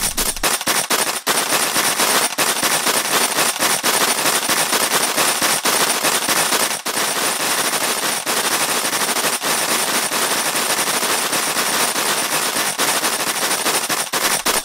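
Continuous rapid-fire shots crackle nonstop in an animated cartoon, a dense stream of sharp pops from a pellet gun with hardly any pause.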